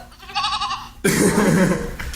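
A goat bleats once in a short, wavering nasal call, then a sudden loud burst of broad noise takes over and holds to the end.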